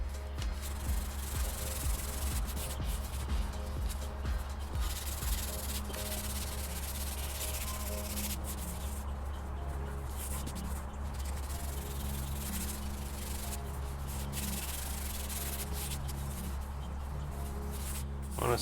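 Sandpaper rubs across the primer coat on a PT Cruiser bumper, giving a continuous, fairly quiet, even scuffing hiss over a steady low hum, with only slight variation and no clear talking.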